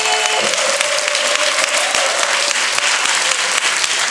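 A hall audience gives warm, sustained applause welcoming Park Jong-geun, National Intangible Cultural Heritage No. 60 ornamental knife master, onto a talk show stage: dense, steady clapping filling the whole stretch, loud and close.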